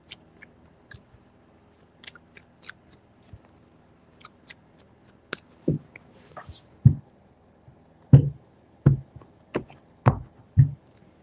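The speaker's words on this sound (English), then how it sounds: "3 shuffles." Tarot cards being shuffled, a series of crisp snapping riffles that grow louder and more regular in the second half, close and alone without talk.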